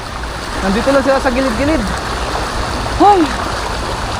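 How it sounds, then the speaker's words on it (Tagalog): Strong sea current rushes steadily through a tunnel, a broad continuous wash of water noise close by, with someone speaking over it. "Dito sa malakas na agos."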